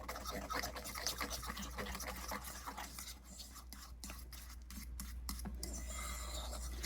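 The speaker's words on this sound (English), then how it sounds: "And mix it until it starts to thicken." Spoon stirring gelatin and cold water in a bowl, soft repeated scraping and rubbing strokes at close range, quiet with a low hum underneath.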